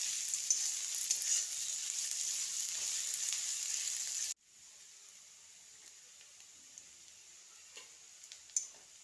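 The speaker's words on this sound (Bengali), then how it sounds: "তো দেখো, আমি এখন এগুলো ভেজে নিচ্ছি।" Chopped onion and other ingredients fry in a pan with a steady, close sizzle that drops noticeably quieter about halfway through and keeps crackling softly, with no talking.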